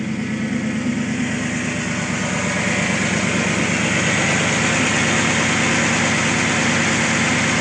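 A Ford Flareside pickup with its EGR parts removed idles smoothly and steadily up close, a constant low engine hum with a fine, even pulsing and no voices.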